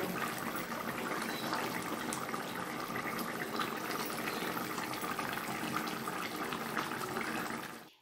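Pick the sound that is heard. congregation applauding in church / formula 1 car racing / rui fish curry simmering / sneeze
rui fish curry simmering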